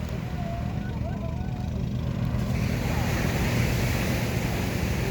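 Steady roar of ocean waves and surf with wind buffeting the microphone, a constant wash of water noise outdoors.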